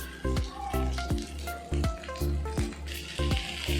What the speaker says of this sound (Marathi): कढईमध्ये थोडंसं तेल घालून घेतलंय. त्यानंतर टाकायचा आहे स्मॅश केलेला बटाटा.